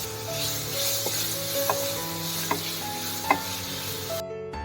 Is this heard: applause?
no